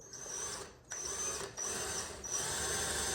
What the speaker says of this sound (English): So I'll drill this out.